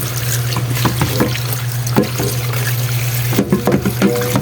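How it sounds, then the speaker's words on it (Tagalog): Tap water runs steadily into a bowl to wash sweet potato leaves (talbos ng kamote), with continuous splashing and a few sharper drips and clinks near the end. "Tapos, lagyan mo siya ng tubig."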